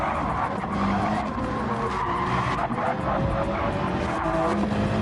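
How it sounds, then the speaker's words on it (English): Ferrari race car in the Gran Turismo 7 racing game, a loud, steady engine roar mixed with tire skidding and squealing that carries without a break for the whole stretch, with no talking. "Ooh, that is loud. Is this a Ferrari?"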